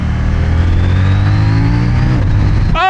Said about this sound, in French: ça fait un plutôt beau petit bruit au shifter